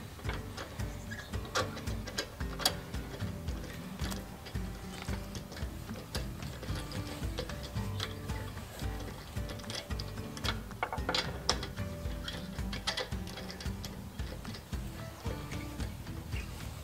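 A ratchet wrench removes the anti-theft lock nuts from a car wheel, giving a continuous run of fast clicking ratchet and mechanical sounds at close range, fairly quiet and with no talk.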